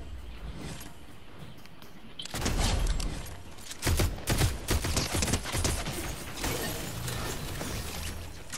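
Rapid bursts of gunfire in the battle game Fortnite, loud clustered volleys and sharp impacts that start after a quieter opening, with dense repeated shots through the middle and end.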